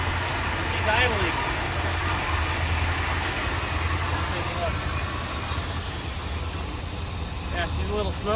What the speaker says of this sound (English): He's idling.